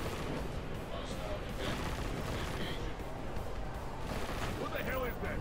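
Heavy, continuous gunfire and rumbling blasts in the game Deus Ex, a dense volley of shots at steady loudness with voices talking over the firing.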